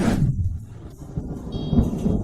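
Deep thunder from an approaching storm at sea rolls in broad, low rumbles that swell and fade across the whole stretch, with no voices present.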